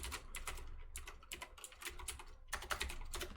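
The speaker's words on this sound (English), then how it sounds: "Sorry for my loud ass keyboard behind me." Rapid, clattery typing on a computer keyboard, bursts of keystrokes with short pauses, close and fairly loud, no voices.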